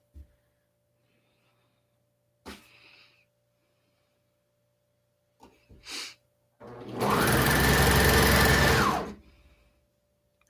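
Sewing machine stitching fabric bodice pieces in one short burst of about two seconds, loud and close, preceded by a few brief handling clicks and soft bumps with quiet gaps between.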